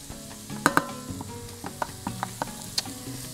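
Diced ham dropped into a pot of onions and garlic for Cuban white bean soup, sizzling steadily while sharp clacks of a spoon against the pot cut through, close and clear, no voices.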